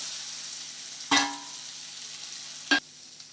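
Onions frying in butter in a pan give off a soft, steady sizzle, broken twice by brief clattering stirs.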